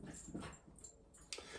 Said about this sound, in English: so you'll probably hear them barking.